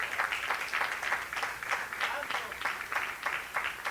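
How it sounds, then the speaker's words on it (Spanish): A church congregation applauds in a steady, evenly pulsing wash of clapping that holds at moderate volume from start to finish. "Dale el aplauso al Señor"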